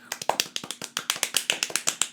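Clapping to welcome a guest on a music podcast comes as a quick, steady run of sharp, close hand claps, evenly spaced and alone, with no talking.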